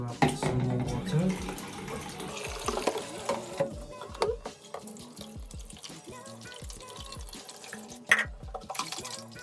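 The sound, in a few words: filling the Thomas Perfect Air vacuum with water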